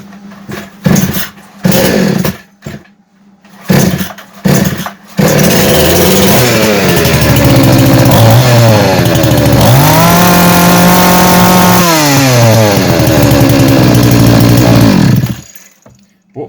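A Start Pro SCS-4080HN/1 petrol chainsaw, choke closed, takes several short sputtering pull-start attempts, then catches and runs loud and steady, revving up and down for about ten seconds before cutting out.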